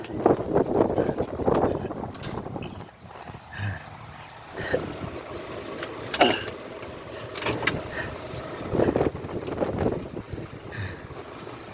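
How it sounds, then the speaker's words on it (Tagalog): Gusty wind buffets the microphone in uneven rushes and roars, rising and falling in strength over about twelve seconds. "Mahangin guys. Umpisa na ang hangin, umpisa na."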